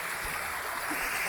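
Steady broadband rush of river water flowing past a village riverside where people wash clothes and bathe, continuous and fairly close, with no voices during the short stretch.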